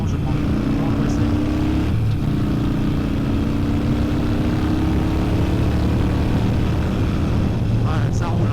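A Harley-Davidson motorcycle rumbles steadily while riding, a loud low engine drone with slight pitch shifts and wind noise, continuous throughout.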